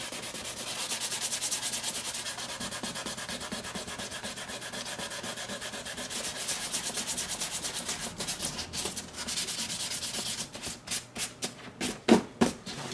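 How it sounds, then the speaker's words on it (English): Sandpaper rubbed over a Star Wars Sandtrooper helmet to weather it, a close, steady back-and-forth scratching that turns into separate, sharper strokes near the end, with no talking. "So I'm gonna keep sanding this down and working it off"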